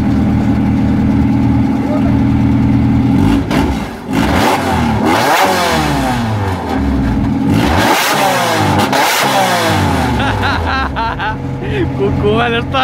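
A Bimoto Corsa fitted with twin 2.0 XE engines and about 800 hp idles loudly, then is revved hard several times in quick sweeps and drops back to a rough idle, with voices nearby.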